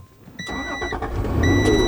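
A 1990s Acura NSX with a manual gearbox is key-started: a brief starter whine and crank, then the engine catches and rises into a loud, steady idle close by, with no talk over it.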